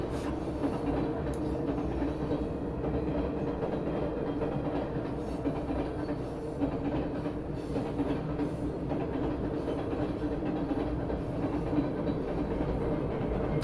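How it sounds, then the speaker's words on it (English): A train rumbles past steadily and close, with a continuous low roar and faint rhythmic clatter of wheels on rails throughout. "I apologize for the train."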